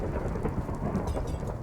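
Rain and rolling thunder from a Minecraft game world, a steady low rumble with dense rainfall hiss throughout, fairly quiet and continuous with no talking.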